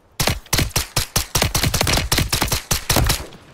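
Loud, rapid gunfire from Call of Duty MW3 campaign play, a steady burst of sharp repeated shots like an automatic weapon firing in quick succession, heard alone without talk.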